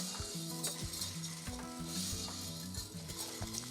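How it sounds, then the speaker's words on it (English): Rice toasting and being stirred in a pot for pork and sausage jambalaya, a steady close sizzle with repeated scraping stir strokes throughout, no talking. "I'm going to toast my rice for a good 5 minutes."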